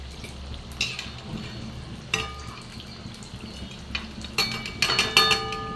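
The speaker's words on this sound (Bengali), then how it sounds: "একটু ডুবো তেলে ভাজতে হবে।" Cabbage pakoras deep-frying in plenty of oil, a soft steady sizzle under clinks and scrapes of a utensil against the pan, with several sharper metallic knocks near the end.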